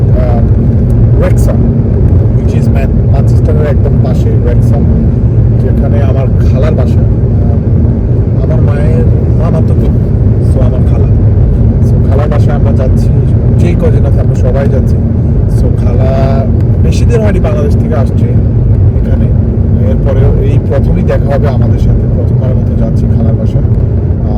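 A car driving along a road at night in Scotland, a loud steady engine and road rumble filling the cabin throughout while people talk inside.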